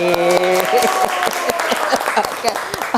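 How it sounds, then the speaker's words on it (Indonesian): Applause from students in a university classroom lecture for a new student named Lucy, a dense patter of clapping lasting about three seconds, with a voice briefly talking over the start. "Tepuk tangan untuk Lucy."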